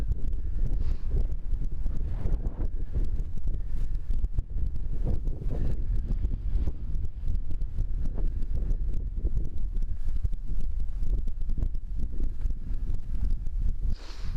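Strong gusting wind of about 15 to 20 miles per hour at a lakeside backpacking campsite in Glacial Lakes State Park, Minnesota, buffeting the microphone with loud, continuous low rumbling and no talk.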